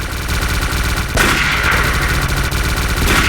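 Machine gun fire in the video game Stalker, dense rapid bursts that continue throughout, with a sharper, louder volley starting about midway and another near the end, heard alone with no talk.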